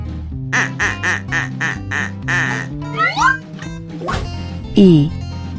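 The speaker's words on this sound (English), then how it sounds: "Duck." Cartoon-style duck quacks against a bouncy musical backing, several loud, rhythmic quack bursts plus a sliding whistle-like call, presented as part of an animal alphabet song.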